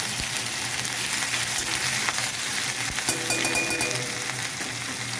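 Chopped ginger sizzles in hot frying oil for potato chops, a steady close crackling hiss with occasional sharper pops, no talk.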